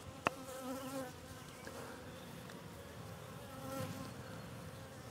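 Honey bees buzz around an opened hive, a close, continuous droning hum with individual insects passing near, steady and moderately quiet with a sharp tap early on.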